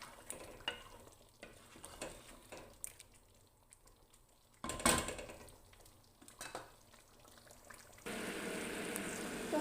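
Broth is poured into a pot of shrimp soup cooking on the stove, a soft steady liquid rush rising at the end after quiet stirring clinks and a gentle simmering sizzle, close and faint.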